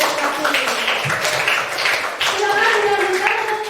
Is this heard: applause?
yes